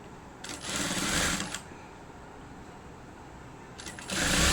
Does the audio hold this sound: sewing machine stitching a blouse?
yes